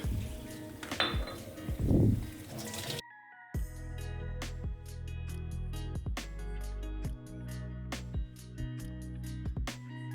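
Glass bottles are rinsed and shaken before bottling, starting with sloshing water and then a long run of close clinks and knocks as the glass is handled.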